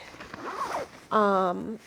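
The zipper pocket on an everyday-carry bag is pulled open in one quick, close zip after some softer handling rustle.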